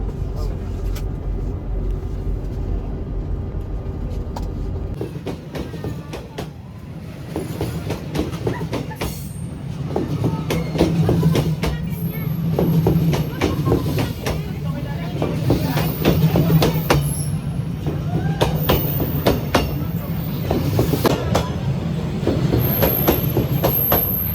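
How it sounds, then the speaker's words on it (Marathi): A train rumbles past up close along a cafe-lined train street in Vietnam, with rattling wheels and clattering cars, steady and loud for the whole stretch, with some voices underneath. "आणि ट्रेन येऊन पण गेली"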